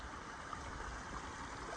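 Near a hiking trail, stream water flows in a steady, soft, continuous rush with no voices heard.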